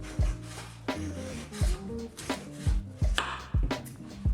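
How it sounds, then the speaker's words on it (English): Ice cream scoop scraping seeds out of a cantaloupe and a Galia melon, a series of close, wet rasping scrapes in an uneven rhythm, about eight strokes with soft thuds. "I'm first scooping the seeds out from both melons. I've got one cantaloupe and one Gallia melon."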